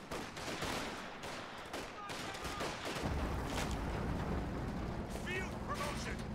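A Sherman tank in a World War II strategy game fires amid a busy battle, with repeated sharp cannon reports and other gunfire popping over a rumbling background while a voice talks throughout.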